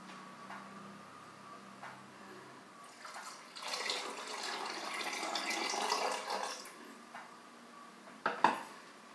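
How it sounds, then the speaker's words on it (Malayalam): Tamarind water pours from a vessel into a pot of sambar, a few seconds of splashing liquid rising and fading, followed by a sharp clink of metal near the end; no voices. "ഈ സമയത്ത് നമുക്ക് പുളിവെള്ളം ഒഴിക്കാം."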